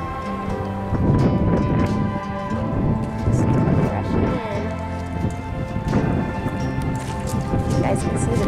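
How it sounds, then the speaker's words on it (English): Heavy rain pours down during a big coastal storm, a dense constant hiss with rumbling gusts swelling and easing throughout. "Got a lot of rain."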